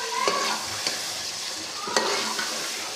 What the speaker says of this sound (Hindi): और अब हम इसको अच्छे तरीके से फ्राई करेंगे